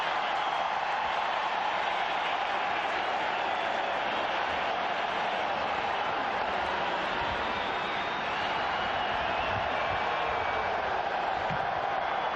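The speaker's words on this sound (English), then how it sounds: "a remarkable crowd on hand" Stadium crowd of more than 47,000 at a Canada vs Brazil football match in Edmonton, 1994: a steady, dense roar of many voices, broad and unbroken throughout.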